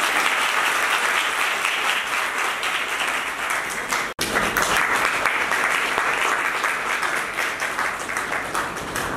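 An audience applauds a vice-president candidate at a ceremony announcing office-bearers. The applause is dense and sustained, with a brief break partway through before it continues just as loud.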